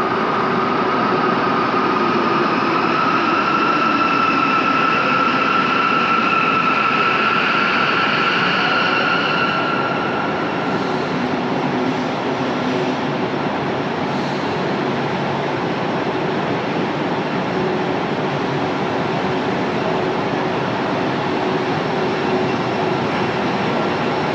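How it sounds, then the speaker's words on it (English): A train pulls into Inca station in Mallorca, a loud, continuous engine and rolling drone with a high whine in the first half, steady and close throughout, with no talk. "here comes my train."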